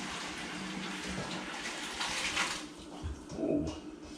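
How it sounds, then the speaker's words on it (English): Pork stock poured through a colander, a soft continuous watery splashing and trickle, fairly quiet and close, with a brief louder gush partway through. "strain it through this first"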